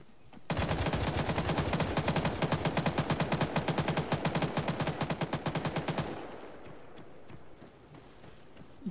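Rapid automatic gunfire in the military shooter ARMA 3, a long sustained burst of evenly spaced loud shots lasting several seconds, then cutting off into a quieter ambient tail with distant pops.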